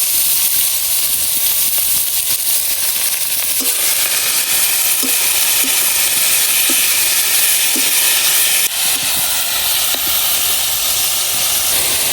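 Thinly cut bottle gourd peels and potato frying with browned onion give off a loud, steady, steamy hiss and sizzle throughout, with occasional soft knocks of stirring.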